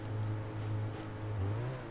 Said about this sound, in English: Not sure why the car keeps moving